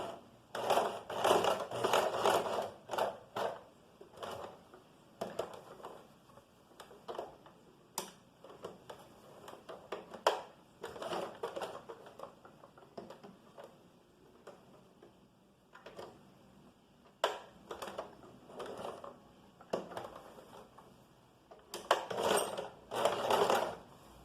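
A sewing machine topstitches close along the edge of a piece of fabric, running in short stop-start bursts of rapid mechanical ticking and clatter, close-up, with no talking.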